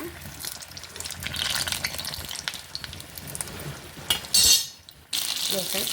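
Stuffed chillies for mirchi bajji fry in hot oil with a constant close sizzle. Light clinks of utensils come as the pieces are turned over, and a brief louder hiss bursts out near the end.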